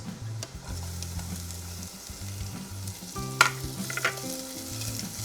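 Garlic and onion sizzle in a hot pan while being stirred, with a steady frying hiss and a few sharper scrapes and clinks near the middle; no one speaks.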